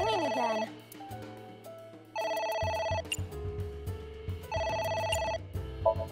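Telephone ringing in the video game AI: The Somnium Files, a melodic electronic ringtone repeating in several bursts over a synthesized background score.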